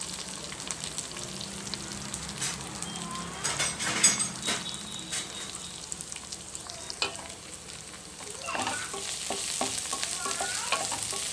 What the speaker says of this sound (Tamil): வெங்காயம் பச்சை மிளகா இதெல்லாம் ஆட் பண்ணி வதக்க வேண்டியது